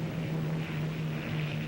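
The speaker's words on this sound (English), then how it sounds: "That's my plane." Steady drone of a propeller airplane engine, the plane called the Flying Dutchman in the 1949 film noir C-Man, humming loud and constant throughout with no voices over it.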